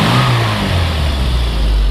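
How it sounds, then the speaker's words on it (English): A 1964 Austin Mini Cooper engine revs loudly and steadily up close, a continuous rumbling mid-range roar with no voices over it. "Rev it up just again."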